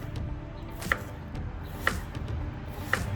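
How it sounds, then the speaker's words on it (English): A knife chopping peppers and onions on a board, three sharp, evenly spaced strikes about a second apart, close and clear over a soft kitchen background, with no talking. "We prepped the peppers, we prepped the onions."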